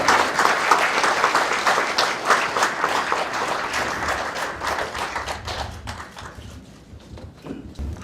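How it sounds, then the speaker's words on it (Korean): Warm applause from an audience at a National Assembly memorial service for Nelson Mandela, dense steady clapping that gradually thins and fades toward the end. "여러분 뜨거운 박수로 감사를"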